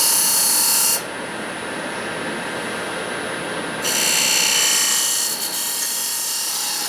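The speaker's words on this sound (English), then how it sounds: "as you're watching this piece be turned a little bit, I'm using a 1/2 inch spindle gouge" Wood lathe spindle turning with a half-inch spindle gouge, a steady loud whirring and scraping hiss of the cutting tool on the spinning workpiece, brightening in bursts as the gouge bites and easing in between, with no talk.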